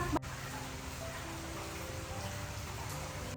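Steady rain hisses evenly throughout, a continuous wash of falling water at moderate level with no voices.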